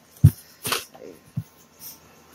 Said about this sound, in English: I got a dog bugging me